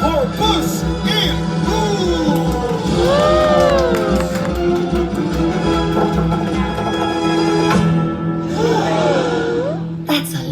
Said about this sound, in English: A round of applause for Puss in